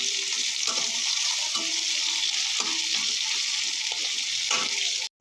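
Chopped onions with salt sizzle and crackle in a hot pan, a close, continuous frying hiss with a few soft stirring scrapes, stopping abruptly at the end.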